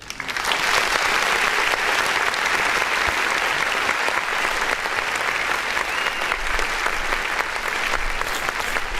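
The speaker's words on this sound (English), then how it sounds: "we're gonna clap for that" Steady, dense applause from a live audience after a song is played during a music review stream, filling the whole stretch at an even, loud level with no talk over it.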